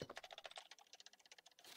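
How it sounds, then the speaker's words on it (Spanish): Rapid, dense keystrokes on a computer keyboard while mashing buttons during a Resident Evil 2 game session, a quick clicking patter that is quiet and close, with no talk. "Perdón si se escucha el teclado"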